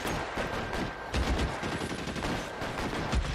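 Bursts of gunfire from the LA Noire video game crackle in quick, loud volleys with brief gaps between them, over a steady background hum.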